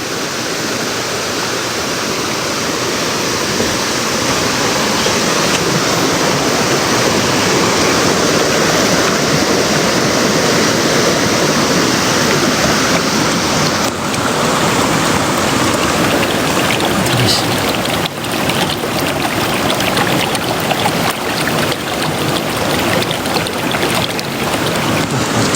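Powerful rushing river water roars loudly and continuously, a dense churning torrent swelling in strength, with no voices heard.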